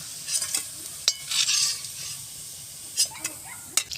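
Alu vadi, rolled colocasia leaf slices, frying in hot oil, a soft continuous sizzle broken by a few sharp crackles and brief clinks of utensils, close by and without talk.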